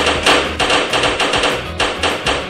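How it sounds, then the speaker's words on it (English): Heavy hammer striking an egg coated in polyaspartic polyurea, a rapid series of about a dozen sharp, loud knocks at an uneven rhythm, heard alone without talk. "Facing the impact of a heavy hammer, can this polyaspartic coating truly protect the egg?"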